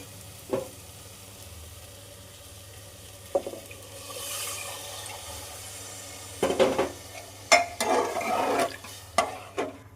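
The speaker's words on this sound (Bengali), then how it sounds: "এর মধ্যে আমি কিছুটা পানি অ্যাড করে দেবো" After some quiet stirring, water splashes into a hot pressure cooker of spiced dried-pea ghugni in several sizzling bursts, with faint clinks of metal.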